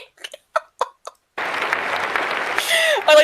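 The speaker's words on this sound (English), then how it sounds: "I like the clapping for that" Audience clapping bursts in suddenly after a few short, clipped voice sounds, then carries on as a steady wash of applause with a brief voice near the end.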